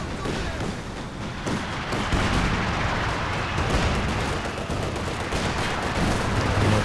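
Artillery fire exchanged both ways in a Company of Heroes 2 battle in a forest, with dense rumbling barrages, gunfire and explosions layered continuously at loud volume, near and far.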